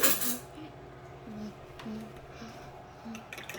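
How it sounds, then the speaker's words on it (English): A whisk or fork clinks against a bowl while beating egg yolks, vanilla and milk together with melted butter for waffle batter, a soft, fast run of light metallic taps under occasional talk. "beat this. Mix that together."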